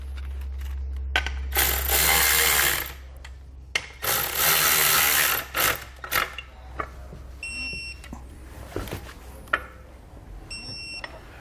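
A hand ratchet snugs down the bolts on Air Lift LoadLifter 7500 XL Ultimate air helper springs fitted to a 2020 Ford F-series truck, with close bursts of rapid clicking separated by pauses and scattered metallic taps.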